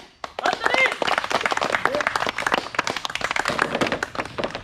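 Hand clapping marks turns in a children's game of knocking down bottles with a ball: scattered, near claps and taps mixed with thuds, under lively talking voices.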